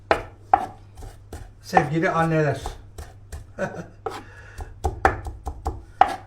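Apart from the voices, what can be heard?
chopping parsley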